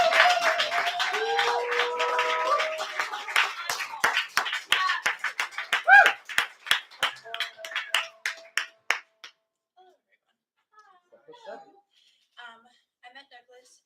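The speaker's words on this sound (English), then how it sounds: "Please clap it up and make some noise for Chris" An open-mic audience at a celebration of life claws into clapping and cheering, dense at first with voices, then thinning to scattered individual claps that fade into near silence.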